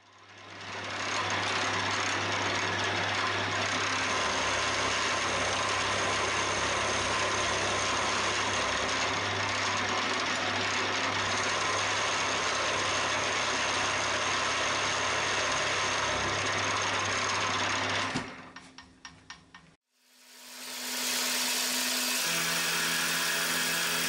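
A milling machine cuts steel stock for a motor mount bracket on an Atlas 7B shaper, giving a loud, steady motor hum with a constant grinding cut that runs for about eighteen seconds, then stops and briefly spins down.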